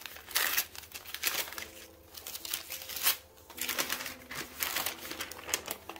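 Packaging paper crinkled and rustled while unboxing the Prince Valiant storytelling game, a series of close, quiet crackling bursts with short pauses between them and no talking.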